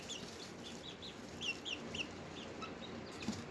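A small backyard flock of chickens clucks softly: quiet, scattered short calls over low background hiss, with no talking.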